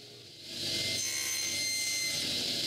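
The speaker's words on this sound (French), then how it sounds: "Je penche la lame de mon bandissi à 45 degrés et avec l'aide d'une butée, je coupe les coins intérieurs de toutes les traverses." Band saw with its blade tilted to 45 degrees cutting the inner corners of wooden rails against a stop, the motor's steady whine rising into a constant rasping cut that holds to the end.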